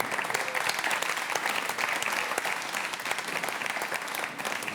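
Audience applause at a live concert, steady dense clapping from a crowd that carries on evenly throughout without a break.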